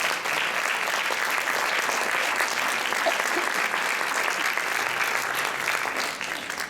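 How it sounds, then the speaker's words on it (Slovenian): An audience at a solo and duet dance competition breaks into sustained, dense applause, steady and fairly loud for several seconds before easing slightly at the end. "En lep aplavz za njih."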